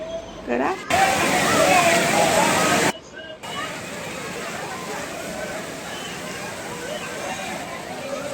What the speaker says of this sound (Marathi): हे वेव्स येतात ना, ते सगळं आहे